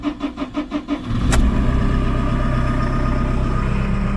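A JCB machine's engine cranks in about six rhythmic starter turns, then catches and settles into a loud, steady diesel rumble close by, with a sharp click just as it fires.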